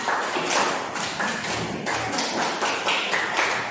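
A group does a scout clapping chant, hands clapping in a quick rhythmic pattern, sharp repeated slaps in short bursts, loud and close.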